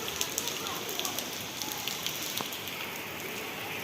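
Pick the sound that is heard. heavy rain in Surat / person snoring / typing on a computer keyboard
heavy rain in Surat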